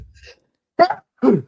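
A man sneezes twice on a live football chat show, two short, sharp, close bursts about half a second apart after a faint breath.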